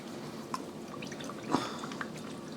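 Soy sauce splashed onto a raw burger patty topped with shredded cheddar, heard as a few soft, close drips and small liquid spatters against faint background noise.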